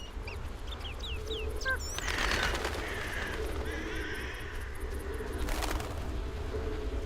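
Birds in The Witcher video game, a few short chirps and calls early on, then warbling and cooing bird sounds over a low ambient hum, moderately loud with no speech.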